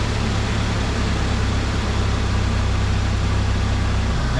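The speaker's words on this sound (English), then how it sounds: "I'm gonna crank this thing up. I'm gonna let you listen to the engine." A Jeep Wrangler engine idles steadily with a low, even rumble and a smooth, quiet hum throughout.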